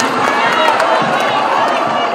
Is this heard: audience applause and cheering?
yes